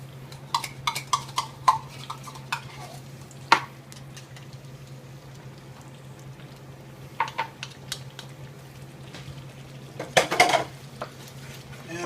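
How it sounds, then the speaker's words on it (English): A spoon stirs a pot of spaghetti meat sauce on the stove, giving scattered clinks and scrapes against the pot, with a louder burst of scraping near the end and no speech. "Start stirring! Start stirring!"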